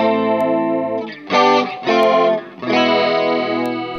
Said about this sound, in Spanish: así sonaría el chorus, suena bastante bien